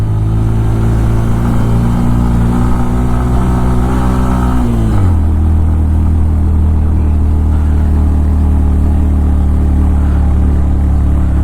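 A vehicle engine labours uphill in first gear on a steep mountain road from Marpha to Muktinath in Nepal, a loud steady drone that drops in pitch midway and settles into a lower, heavier pull, with no talk.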